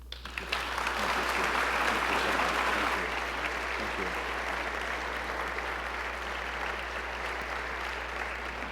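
Audience applause at Ohio University's 2019 State of the University address greets the 21st president, Dr. Duane Nellis, as he comes to the podium; a broad wash of clapping swells early, then settles into a steady, slightly softer ovation.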